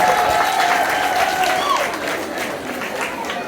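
Parents applauding at a school report-card ceremony, a dense round of clapping that fades somewhat midway while a voice speaks over it.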